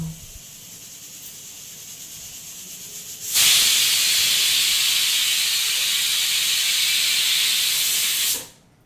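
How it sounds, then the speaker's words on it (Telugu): Cumin seeds drop into hot oil for an onion pickle, setting off a sudden loud sizzling hiss that holds steady for about five seconds, then cuts off abruptly. "ఇప్పుడు మనం ఇందులోకి జీలకర్ర వేద్దాం."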